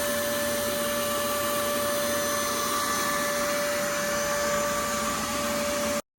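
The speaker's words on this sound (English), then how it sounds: "So with the sound of the vacuum, a lot of the dialogue in the field got drowned out." A vacuum running steadily to suck a yellowjacket wasp nest out in the field gives a loud constant whine with a fixed tone, then cuts off abruptly at the end.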